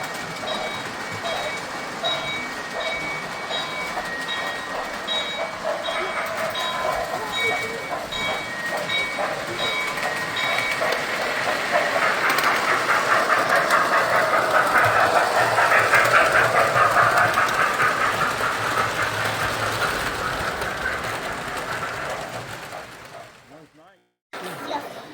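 Lionel model trains run at a hobby shop in Cortland, NY, giving a steady, continuous rolling rumble with a rise in loudness midway and a few periodic beeps early on, with people chatting faintly in the background.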